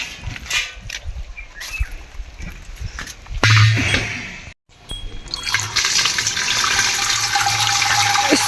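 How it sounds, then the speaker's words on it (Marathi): Water rushing and splashing at an outdoor water tank as a pot is filled, a steady loud gush that briefly cuts out and then resumes as a strong continuous flow, with a few clanks early on. "या हौदाचं पाणी घेऊन जायचं"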